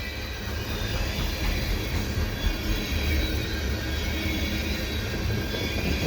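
CP westbound freight train rolling past Cedar Park station in fresh snow, a steady loud rumble of wheels and cars with faint squeal throughout, no voices.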